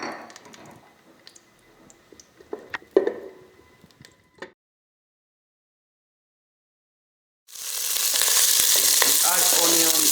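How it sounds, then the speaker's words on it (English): Vegetable oil and margarine in a pot: faint scattered clicks and taps, a stretch of silence, then a loud, dense hissing sizzle that holds steady to the end. "add 1 tablespoon of vegetable oil and 1 tablespoon of margarine"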